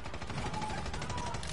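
Rapid automatic gunfire in Far Cry 6, a fast, even train of shots that repeats through the whole moment with no pause.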